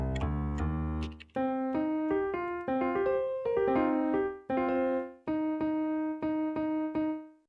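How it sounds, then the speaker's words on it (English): A sampled acoustic piano from the Noir sample library plays a sequence of sustained chords with clean decays, opening with a low, bassy chord before moving to mid-range voicings, close and clear with no voices. "I'm just gonna go with a standard piano sound."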